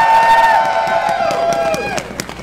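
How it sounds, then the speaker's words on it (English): A festival crowd applauds and cheers a platinum sponsor, with loud clapping and voices swelling together while tonal sounds slide underneath, fading somewhat toward the end. "A big round of applause to Sunwing."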